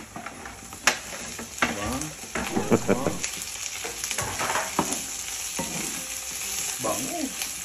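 Garlic and onions sizzle and fry in a pan for Filipino paksiw, a steady close crackle punctuated by stirring scrapes, with a brief spoken word.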